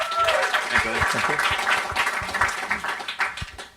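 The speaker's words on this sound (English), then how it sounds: "So give him another round of applause." Audience applause at a student talk about fresher life, a steady burst of clapping with a voice or two speaking over it, then thinning toward the end.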